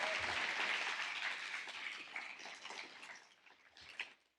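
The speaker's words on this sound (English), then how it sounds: "So a huge round of applause to them," Conference audience at a useR! 2025 keynote applauding, a full burst of clapping that gradually thins and fades out over a few seconds.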